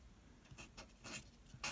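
Pen strokes scratching across paper during handwritten algebra, quiet and close, with several short bursts of scribbling separated by brief pauses.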